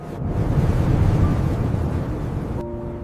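Ocean waves wash around Arctic sea ice in a loud, broad rushing surge that holds steady then eases off, with wind buffeting the microphone.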